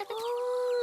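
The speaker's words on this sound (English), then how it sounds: "Now, who wants to hold a baby chick?" A short, high cheeping chirp from baby chicks at a cartoon petting farm, close and clear against a quiet background.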